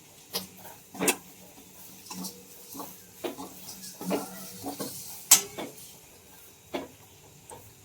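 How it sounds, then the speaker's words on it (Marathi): Turmeric and chili powder roasting in a pan, with a spoon stirring and scraping in irregular clinks and taps over a soft sizzle, close and fairly loud. "आता हे पण भाजून घ्यायचे मसाले आपल्याला"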